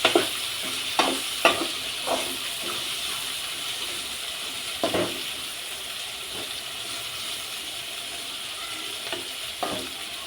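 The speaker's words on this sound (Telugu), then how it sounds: "ఇంకా బెండకాయ అయితే చేస్తున్నాను ఫ్రై" Sliced okra fries in a pan with a soft, continuous sizzle, broken by occasional light scrapes and clicks of stirring; the sound is quiet and steady throughout, with no talking.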